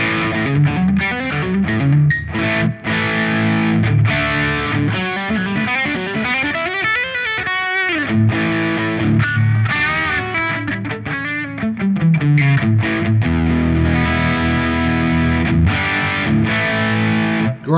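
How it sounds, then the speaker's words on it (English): An electric guitar played through a Vox amp model on a Hotone Ampero Mini, giving a loud, driven, distorted tone. Melodic lines and sustained notes bend and slide, with no voices. "Really voxy."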